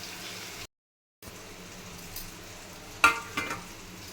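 Brinjal (vankaya) curry cooks in a pan with a steady bubbling sizzle, alone and close. A short gap cuts the sound partway through, and a few louder pops and spatters follow near the end.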